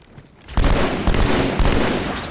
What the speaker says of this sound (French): Quand je tire, j'essaie de viser